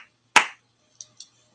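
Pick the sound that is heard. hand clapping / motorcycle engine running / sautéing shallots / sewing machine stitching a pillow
hand clapping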